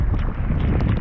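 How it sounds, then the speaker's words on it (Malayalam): Strong gust of wind buffeting the microphone at a rainy breakwater, a loud continuous low roar and rumble with uneven surges across the whole second, heard alone. "നല്ലൊരു കാറ്റ് വീശി, പക്ഷെ അധികം നേരം നിന്നില്ല"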